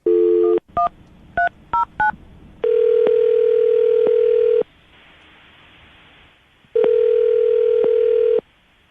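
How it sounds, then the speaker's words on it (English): A phone dials a number: a dial tone, a quick series of keypad beeps, then two long ringback tones separated by a quiet pause. "I'm going to dial the phone number right now"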